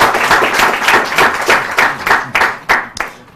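Applause breaks out for a contestant at a church Bible quiz competition, a dense burst of clapping that thins toward the end into a few separate, louder claps.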